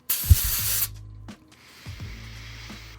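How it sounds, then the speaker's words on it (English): Two quick bursts of YSL Y Eau Fraiche fragrance spray: a loud, close hiss of about three-quarters of a second, then a much fainter puff near the end, over a low room hum. "I'm gonna give this a couple more sprays."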